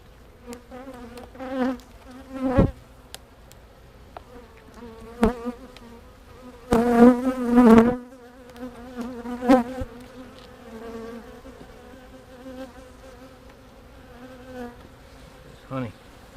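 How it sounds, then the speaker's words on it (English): Honey bees in an opened beehive hum with a continuous close buzz, swelling and fading as individual bees pass near, with a few sharp knocks and handling noises over it. "Bees trying to sting me."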